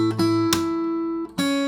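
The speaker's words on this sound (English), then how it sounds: "Then you slap and create that percussive sound" Fingerstyle acoustic guitar strings ring on while a sharp, percussive slap strikes the body and strings, with a second hit near the end, in a song lesson.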